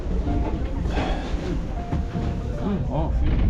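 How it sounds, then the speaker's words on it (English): A White Pass Scenic Railroad train moving along on a tour in Alaska, giving a constant loud rumble and rattle of the carriages with a few squeals of metal. Someone talks over the noise. "So this is a train, the White Pass Scenic Railroad."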